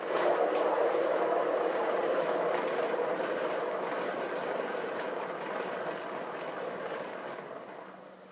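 Paint spinner turning an acrylic fluid art pour anti-clockwise, giving a steady mechanical whirring and rattling hum that holds throughout and fades slightly toward the end, with no voices.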